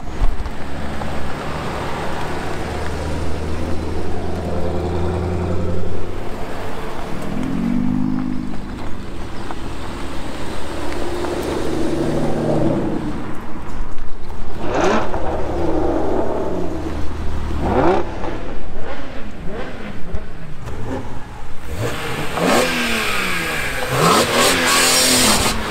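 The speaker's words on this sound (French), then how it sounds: "On commence ici avec le Trackhawk des organisateurs." A Jeep Trackhawk SUV engine revs and accelerates at the start of a supercar rally, rising and falling in loud pulls with passing engine sweeps, continuous and close without talk.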